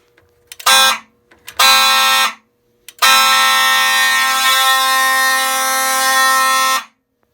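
A fire alarm system under test blares loudly in two short bursts, then sounds in one long, unbroken electronic tone for several seconds before cutting off.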